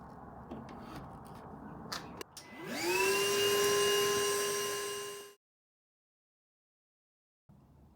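Shop vac hooked to the cyclone on a sand blasting cabinet, a few handling knocks, then the motor whines up to a loud steady howl for a couple of seconds before cutting off into silence.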